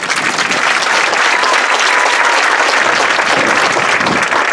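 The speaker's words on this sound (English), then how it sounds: "So how about a round of applause for Ms. Brooke?" Loud, dense applause from an audience at a band's meet-the-band night, honoring a senior piccolo player, a continuous roar of many clapping hands sustained throughout, close and full, with no talking over it.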